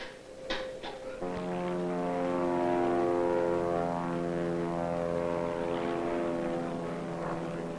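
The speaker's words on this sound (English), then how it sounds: "One of these chipmunks, single engine with a propeller at the front and 2 seats behind." A de Havilland Chipmunk single-engine propeller trainer aircraft drones steadily and loudly, with a strong harmonic engine hum that starts after a couple of brief knocks and holds evenly throughout.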